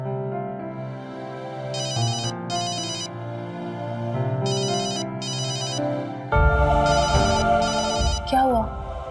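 A telephone ringtone plays a repeated electronic ringing pattern in short bursts, fairly loud and close, continuing for several cycles with a louder stretch near the end.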